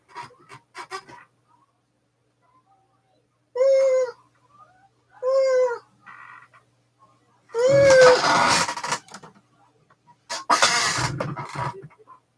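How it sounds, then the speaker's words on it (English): A cat meowing for food: several loud, drawn-out meows in separate bursts with silent gaps, close to the listener, mixed with short noisy rustles and brief human vocal sounds. "She's always fucking meowing for more food."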